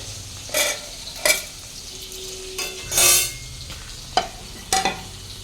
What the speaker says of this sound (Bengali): এখন একটু সিদ্ধ ভাত আর মাছ ভাজা করছি